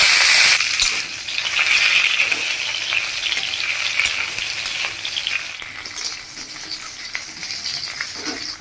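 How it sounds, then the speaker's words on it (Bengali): Washed dried fish dropped into hot oil with nigella seeds in a kadai, an immediate loud crackling sizzle that gradually settles into a steadier, softer hiss with faint stirring clinks. "শুটকি মাছটা আমি ভালো করে ধুয়ে রাখছিলাম, এখন তাই কড়াইতে দিয়ে দিচ্ছি"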